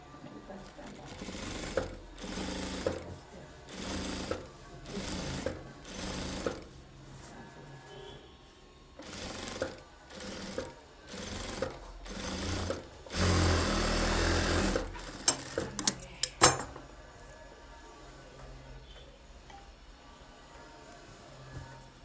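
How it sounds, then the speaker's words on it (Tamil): A sewing machine stitches the folded edge of a blouse lining in short, rapid whirring bursts with pauses between them, then one longer run and a few quick clicks near the end. "அப்புறம் நம்ம அந்த லைனிங்கை மடித்து எஜ்ஜு தையல் போட்டுருங்க"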